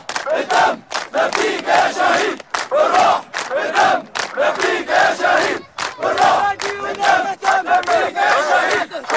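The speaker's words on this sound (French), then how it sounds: "Malgré les risques, la foule est venue nombreuse honorer la dépouille de Fadi Qassem" Mourners gathered to honour the body of deserter soldier Fadi Qassem in Syria chant in loud, rhythmic bursts, many voices shouting together in repeated phrases with brief pauses between.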